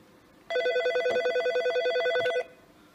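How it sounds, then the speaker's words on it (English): A Nortel office desk phone rings for an incoming call, a single burst of rapid warbling electronic trills lasting about two seconds, loud and close in a quiet room, with no talking. "when I get a call to this phone right here"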